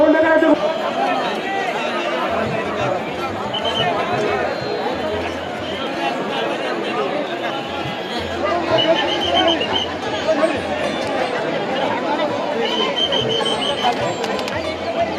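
A huge crowd of pilgrims at the Pandharpur Ashadhi Wari, in a six-kilometre queue to see Vitthal, makes a steady hubbub of chatter and movement, while someone speaks nearby over the din.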